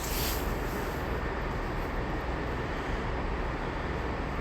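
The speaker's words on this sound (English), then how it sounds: "Passing by now, it looks like we have a DRS 66 running from Carlisle North Yard to" A DRS Class 66 diesel locomotive hauls an engineering train past a Carlisle station platform, a loud, dense, unbroken rumble and roar close by throughout, with no talk.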